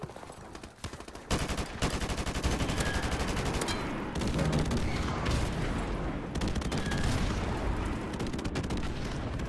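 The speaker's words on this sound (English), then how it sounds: "Friendly airstrike on the way." Heavy gunfire and booming blasts from a friendly airstrike in a Halo hardpoint match, rolling in after a quieter opening second and staying loud and dense throughout, with no talk.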